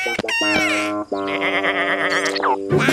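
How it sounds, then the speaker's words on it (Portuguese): Cartoon sheep bleats in a children's animated show, several wavering, quavering cries in quick succession, loud and close with little pause between them, sounding alone with no talk. "É uma ovelha tomando sorvete."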